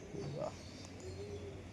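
A pigeon gives a short, soft, rising coo close by, followed by a fainter drawn-out call, with quiet background noise and no talk.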